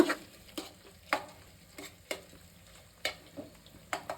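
Onions roasting in a pan for a homestyle biryani, a steady soft sizzle broken by a string of sharp spoon scrapes and stirs against the pan, close and alone with no talk.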